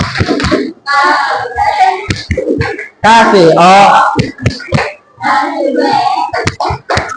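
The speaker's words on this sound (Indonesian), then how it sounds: "kita kasih tepuk wow dulu untuk kelompok 4" Elementary schoolchildren in a classroom doing a rhythmic 'tepuk wow' clap chant for a student group, sharp hand claps punctuating loud, close chanting voices, with short pauses between phrases.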